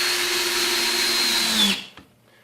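A Ryobi 18-volt One Plus cordless drill driver driving a screw: a steady high motor whine that climbs in pitch for about a second and a half, then stops abruptly with a faint click.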